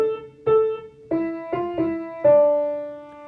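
Piano playing a short Dorian phrase in D that includes a chromatic black key: six distinct notes struck in a gentle rhythm, the last one held and ringing out, close and clear with no voices.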